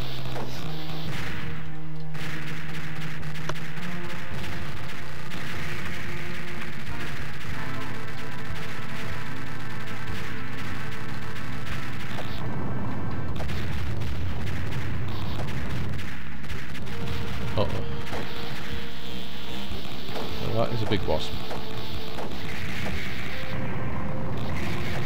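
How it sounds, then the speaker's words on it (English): Booming bomb blasts during a boss fight in the NeoGeo shooter Prehistoric Isle 2, loud repeated explosions layered over continuous game music and effects, heavy and crowded throughout. "I'm gonna bomb for safety on this boss."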